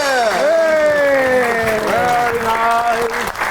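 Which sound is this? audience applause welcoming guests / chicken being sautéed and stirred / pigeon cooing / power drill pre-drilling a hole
audience applause welcoming guests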